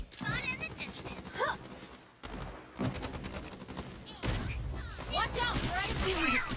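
Rapid gunfire in the shooter video game Strinova: bursts of shots crackle through a busy in-game mix, partly under voiced character callouts.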